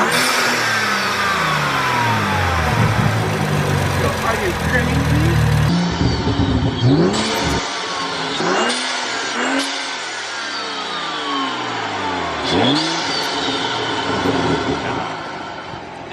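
A BMW F30 335i fitted with a CTS turbo intake revs hard again and again. Each throttle blip rises and falls in a sweeping arc, heard up close and loud, and a voice briefly speaks over it.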